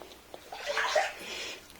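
Floodwater sloshing and splashing during cleanup after a typhoon, a short swell of churning water close by that rises, peaks briefly, and settles back to a low wash.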